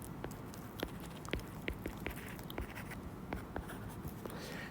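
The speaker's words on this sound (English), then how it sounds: "So I'm just going to write this equation down here." A hand writes an equation, a quiet series of short scratchy pen or pencil strokes in an irregular rhythm, close up against a faint background hiss.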